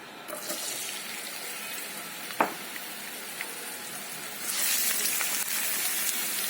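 A steady sizzling hiss of chopped onion and garlic frying in hot oil, with a sharp clink partway through and the sizzle swelling louder near the end.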